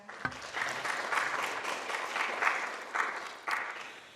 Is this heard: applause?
yes